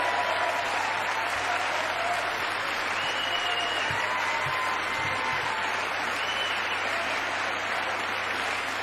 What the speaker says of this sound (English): As his trained SEALs sit there and clap at his every whim upon command.